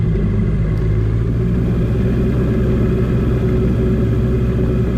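A cold vehicle engine pulls away with a steady, loud low rumble and a mid-pitched drone that holds evenly as it moves off.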